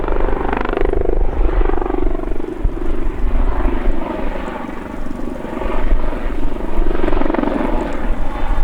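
An Army Lynx Mk 7 helicopter flying a backflip display at an airshow, its loud, continuous rotor thrum and turbine roar rising and falling steadily as it climbs and loops overhead.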